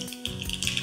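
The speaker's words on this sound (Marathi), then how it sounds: "तर आपण याला फोडणी करूया।" Mustard seeds and cumin hit hot oil for a Marathi phodni tempering, giving a short, loud burst of crackling sizzle with popping spits throughout.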